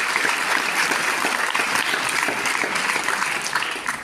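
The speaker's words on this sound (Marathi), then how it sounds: "या मुलीसाठी आपण एकदा जोरदार ऋतुजासाठी टाळ्या" An audience at a school hostel literary event claps for a young poet, dense, sustained applause filling the hall from start to finish and fading slightly at the end.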